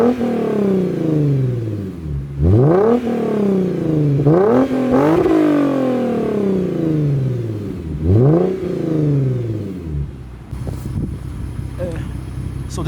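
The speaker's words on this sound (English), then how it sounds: "I'm gonna pull my car up, I'm gonna rev with y'all for a little bit" A Lexus IS350 with an aftermarket exhaust revs hard several times up close, each rev climbing sharply and then falling back to idle in a repeated pattern, before settling into a rougher rumble, with talk partly heard.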